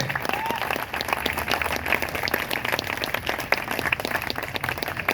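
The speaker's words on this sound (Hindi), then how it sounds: "एक बार जोरदार तालियां चाहूंगा मेरी अपलाइन के लिए और प्रदीप सर और प्रवीण सर के लिए।" Loud, dense applause from a large audience at a company event, a vigorous continuous roar of clapping with scattered sharp claps standing out, and a faint voice underneath.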